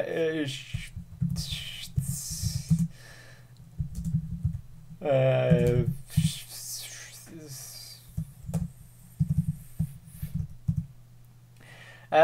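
Quick typing on a computer keyboard, a run of soft rapid clicks recurring in short bursts between stretches of talk and whispering.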